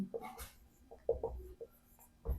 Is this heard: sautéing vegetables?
no